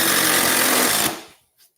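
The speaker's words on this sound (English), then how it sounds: "you can still drive a screw in it." A power drill or driver sinking a screw into cured floor leveler: a loud, close, grinding whir lasting about a second that cuts off abruptly, followed by a faint short tap.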